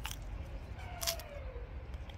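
A fresh jujube fruit, just picked from the tree, is bitten with a couple of crisp, short crunches close to the mic in an otherwise quiet outdoor setting.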